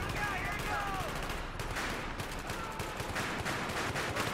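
A main battle tank cannon fires in an online shooter game, with bursts of gunfire and booming reports over a dense, continuous battle din.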